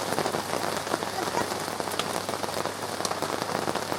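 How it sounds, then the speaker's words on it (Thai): Steady, dense rain pattering on a surface close by at a riverside campsite, a continuous hiss with scattered drops and no talking. "ตอนนี้เราก็อยู่ท่ามกลางบรรยากาศฝน"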